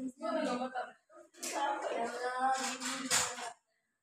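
Children in a classroom join a rhythmic clapping routine led by a teacher, quick bursts of hand claps in counted patterns mixed with chanted voices, close and lively with short pauses between rounds.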